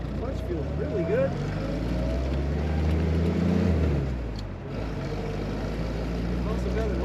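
A 1963 Willys Jeep CJ5 with a three-speed manual gearbox and overdrive drives along. Its engine hums steadily, then rises in pitch as it gathers speed before easing off. The tone is close and continuous throughout.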